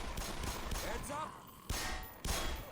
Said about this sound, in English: See, they're shooting her. She just shot.